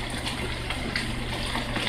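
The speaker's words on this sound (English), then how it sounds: "And then you wanna add this water to your chicken." Seasoned water is poured onto raw chicken during curry chicken prep, a steady close splashing gush that runs unbroken for about two seconds with nobody talking.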